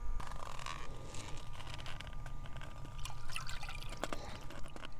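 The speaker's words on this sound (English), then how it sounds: "I am just pouring the water or the broth off of the chicken." Liquid broth drains from an opened 5-ounce can of chicken in a steady, close trickle with small drips and faint metallic can sounds, no talking.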